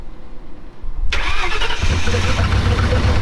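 A car engine cranks briefly after the key is turned, catches with a sudden loud roar, then settles into a steady, close, rumbling idle.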